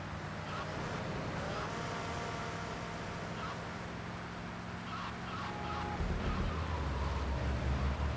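A car in GTA Vice City drives along with a steady engine drone under road and ambient noise, growing louder and deeper toward the end.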